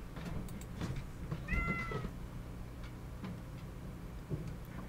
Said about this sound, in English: Cat's meow.